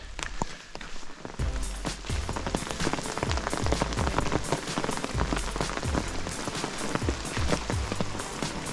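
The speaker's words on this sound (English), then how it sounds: "see if the rain picks up" Steady rain pattering on a surface in the Colorado wilderness, a dense, continuous patter that stays fairly loud throughout with no talk.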